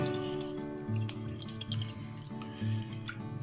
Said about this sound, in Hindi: I drain the water